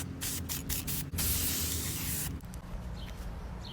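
Gold spray paint hissing steadily from an aerosol can onto a small centerpiece figure for another coat, a long continuous spray burst with a short pause and softer spraying after, close by and alone.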